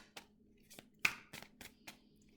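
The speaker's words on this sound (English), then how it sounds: "Try and give them a good shuffle." Tarot cards are shuffled by hand, giving a handful of separate soft riffling snaps and flicks, close and quiet, spaced irregularly with one sharper flurry near the middle.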